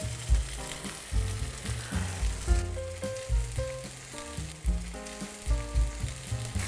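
Veal sizzles and crackles steadily in a hot pan, with soft stirring and clinking sounds breaking through the continuous frying hiss.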